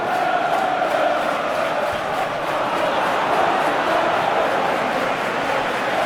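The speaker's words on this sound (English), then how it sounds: "the pocket of Everton fans in that corner cheering on Nick Barnby" Pocket of Everton fans in a corner of the ground cheering and chanting during a 1997/98 Premiership football match, a steady, loud, dense crowd roar sustained throughout.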